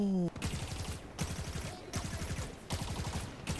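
Sniper rifle fire in Halo 5, heard as repeated sharp shots with rattling decays in three or four bursts, loud and close, with no talking.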